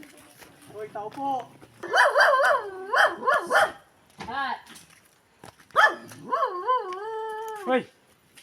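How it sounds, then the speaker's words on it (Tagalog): A dog barks and howls in a series of loud yelping bursts at a relative's home in a village, nearby and interrupted by short pauses, while a person calls out over it. "Minsan pahintuin mo aso mo, takot kami sa rabies ha."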